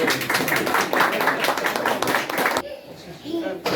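Crowd clapping at a birthday celebration among church friends, dense rapid applause filling the room for a few seconds before it suddenly drops away to quieter murmuring.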